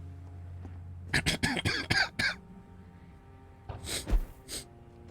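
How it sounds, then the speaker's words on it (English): A man coughs in a rapid burst of four or five harsh coughs, then a gasp and a second shorter cough with throat clearing, close and otherwise quiet. "That's why I got this weird cough."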